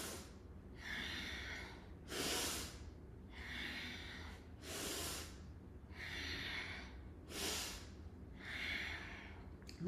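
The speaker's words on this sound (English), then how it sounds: "Start this movement. Inhale, exhale, inhale, exhale." Slow, deliberate breaths in a morning breathing exercise, with about eight loud, close inhales and exhales alternating in a steady rhythm and no talking.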